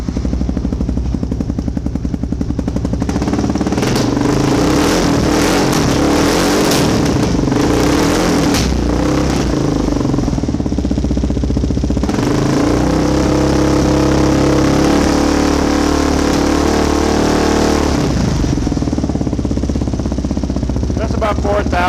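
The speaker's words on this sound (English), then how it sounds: "So let's fire the bike up" A 2015 Kawasaki KLR 650 motorcycle with a wide-open Lexx exhaust and no neck-down, revving loudly up close; a steady throaty drone swells and falls through repeated blips.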